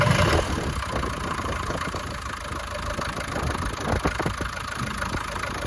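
A 1977 Land Rover Series 3 88-inch diesel idles with a steady, rough clatter, a continuous close and fairly loud mechanical rattle that holds an even pace throughout.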